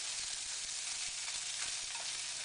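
Squash and zucchini sauteing in a very hot skillet, a dense, even sizzle filling the whole stretch at low volume with no voices.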